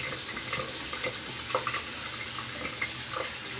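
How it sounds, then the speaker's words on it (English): Cold water runs steadily from a tap into a sink, a continuous close hiss with small splashing variations and no talk. "Let's get the cold water going."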